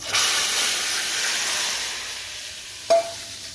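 Loud hissing sizzle of tadka spices hitting hot oil for moong dal, strong at first then easing, with a brief clatter near the end.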